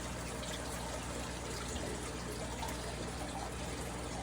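Water pouring steadily from a spout into a tree frog habitat, a continuous close trickle and splash that holds at an even level the whole time with no talking.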